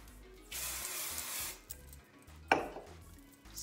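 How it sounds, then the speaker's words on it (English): Bio Silk holding hair spray hisses out of the can in one steady burst of about a second, close to the microphone, followed by a sharp clink and faint handling noises. "use the Bio Silk Holding Spray."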